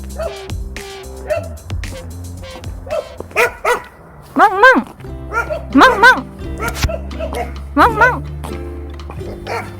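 A dog barks repeatedly during a nighttime neighborhood walk, with a cluster of loud, close barks in the middle and later part, while someone talks nearby.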